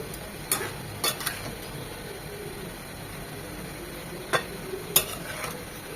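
Chichinga (snake gourd) bhaji frying in a pan while being stirred, a steady low sizzle with a few sharp scrapes and clinks of the spatula scattered through.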